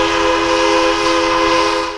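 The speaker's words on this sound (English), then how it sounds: "Our first shot of the day is of the train departing their depot on the west end of their line." A Huckleberry Railroad narrow gauge steam train departing its depot gives a loud, steady whistle blast held for about two seconds, close by and alone.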